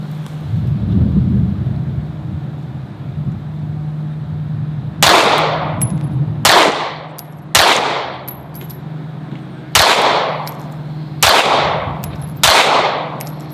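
Pistol shots fired at a shooting range: six sharp, loud cracks spaced roughly one to two seconds apart, each with a short ringing decay, following a low rumbling stretch.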